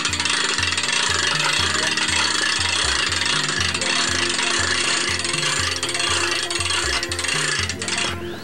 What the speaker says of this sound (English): you can just go ahead and crank the mast up